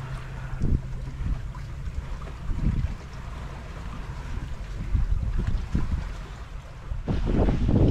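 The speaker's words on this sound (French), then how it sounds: "le vent monte à 12 nœuds" Wind rushes steadily across a sailboat under sail, with a single sailor aboard and the breeze building toward twelve knots, a constant broadband roar with gusty swells and low buffeting thumps near the microphone.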